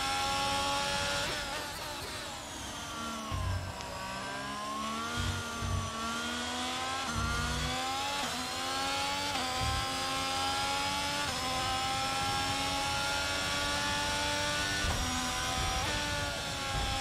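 A Ferrari Formula 1 car engine screams at high revs at Silverstone in the F1 22 game, its pitch rising and falling through gear changes and throttle lifts, loud and continuous throughout.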